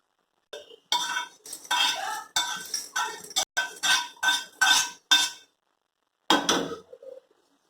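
A metal spoon scrapes and clinks against a pan while Chettinad chicken chukka is stirred, a close series of about a dozen rhythmic scraping strokes with short gaps, a pause, then two more strokes.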